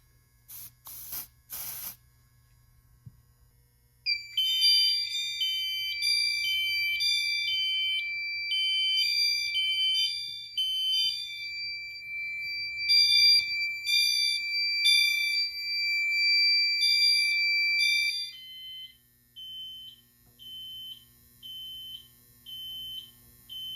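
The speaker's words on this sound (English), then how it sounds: "And now for this smoke detector." A Notifier NFW2-100 fire alarm triggered by a smoke detector sounds in a steady electronic pattern of repeating high tones and beeps, loud and close over a low mains hum, then thins to intermittent beeps.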